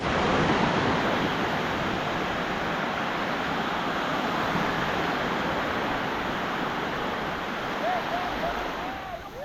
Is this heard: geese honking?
no